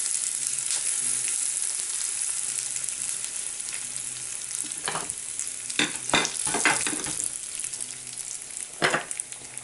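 Onion seeds and asafoetida sizzle in hot oil. A constant loud frying hiss carries sharp crackling pops and spatters, which bunch together in the second half, with no voices.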